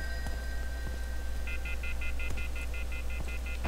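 A phone rings in the video game F.E.A.R. 3, with a steady run of repeated electronic ring pulses over a constant low game hum and a few faint clicks.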